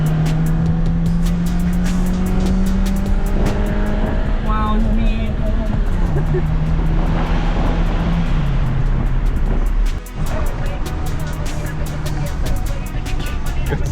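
A Mazda Miata drives past with a steady, loud engine drone and rushing road noise, close and continuous throughout, while people talk excitedly over it.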